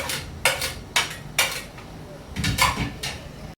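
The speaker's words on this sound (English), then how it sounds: "I stir it. I want it to fry for some time." A spoon knocks and scrapes repeatedly against a pot as fresh tomato, crayfish, pepper and onion are stirred while frying, with rhythmic close clanks and a soft sizzle underneath.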